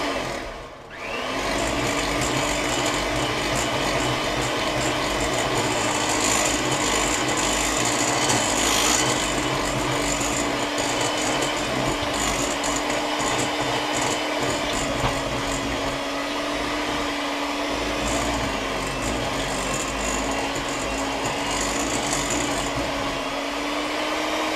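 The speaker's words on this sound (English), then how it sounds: "blending with a mixer on a low speed for 30 seconds" An electric mixer runs at low speed, blending eggs, vanilla and lemon juice into chocolate chip cookie dough for DoubleTree-style cookies. It gives a steady, continuous whirring hum that holds level for about twenty-four seconds after a brief start.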